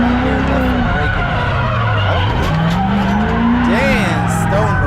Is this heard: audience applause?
no